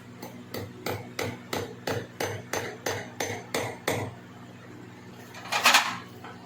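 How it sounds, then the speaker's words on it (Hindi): A hammer drives a nail into a wall for a sub meter install with about a dozen evenly spaced, sharp blows over four seconds, close and clear, followed by a brief scraping rattle. "इसके लिए हम यहाँ पे कील को लगा देंगे।"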